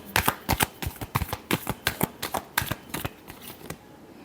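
Tarot cards are shuffled in a quick run of sharp riffling snaps, about a dozen crisp bursts close up over a few seconds, with no talking.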